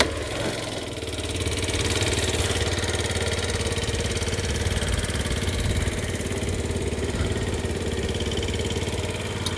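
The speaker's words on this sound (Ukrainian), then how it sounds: "Двигун працює без жодних нарікань." A Yamaha Gear scooter engine idles steadily nearby, a low continuous rumble with a faint rhythmic putter that holds even throughout.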